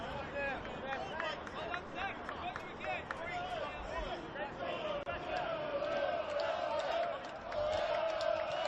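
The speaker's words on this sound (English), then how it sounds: "Home crowd in fine voice." At a St George Willawong home NPL men's football match against Gold Coast Knights, a distant crowd chants and cheers in sustained, sing-song waves while a commentator talks over it.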